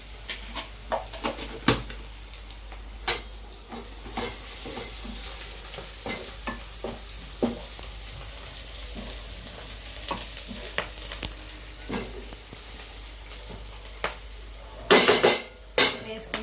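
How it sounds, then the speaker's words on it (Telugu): Curry leaves sizzle and fry in hot oil in a pan while being stirred for an egg curry, with steady crackling under repeated sharp clinks of a spoon against the pan and a louder burst of spattering near the end. "కొంచెం కరివేపాకు కూడా వేసుకోవాలి"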